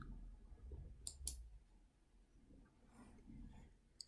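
Two quick, sharp computer mouse clicks in close succession, then a faint later tick, over a quiet room background with soft low rumble.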